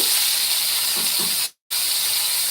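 Small shallots and garlic sizzle in hot oil with urad dal, giving a steady, close hiss of frying that drops out for a split second and then resumes.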